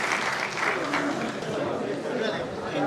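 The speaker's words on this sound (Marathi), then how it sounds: "एकदा जोरदार टाळ्या सर्वांसाठी या ठिकाणी होत होतात." An audience claps at a state-level award ceremony in India, dense continuous applause mixed with crowd chatter and voices.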